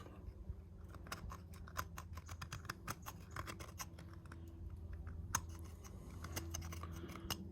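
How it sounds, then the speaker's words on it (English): A knife scrapes and snicks along the ragged edge of an aluminium bike basket in a run of faint, close, irregular scratchy cuts over a quiet background. "the easiest thing to do is just to cut the edge off it just with a knife"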